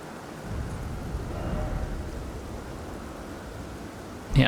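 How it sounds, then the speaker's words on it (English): Thunder in the video game Elden Ring, a low continuous rumble with rain-like hiss that rises slightly midway and closes with a brief sharper crack. "I think the noise is just the thunder."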